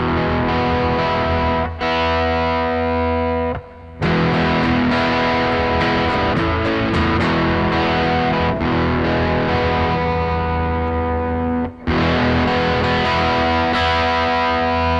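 Heavily distorted electric guitar strummed in a steady rhythmic pattern, loud and continuous, with a couple of brief pauses between chords.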